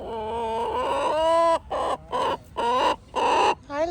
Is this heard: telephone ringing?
no